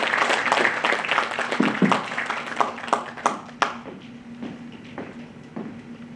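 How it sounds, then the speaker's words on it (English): An audience at a legal training program for empanelled advocates gives a round of applause, a sparse, scattered clapping from a modest crowd that thins into a few isolated, distinct claps before dying away. "kindly welcome him with a round of applause"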